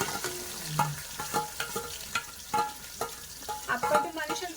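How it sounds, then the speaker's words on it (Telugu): Chopped onion dropped into hot oil in a home kitchen, sizzling steadily with scraping stirs and clinks of a spoon against the pan, close and moderately loud, no voices. "ఇప్పుడు ఆయిల్ గీటెక్కిన తర్వాత ఉల్లిపాయ వేసుకున్నాం."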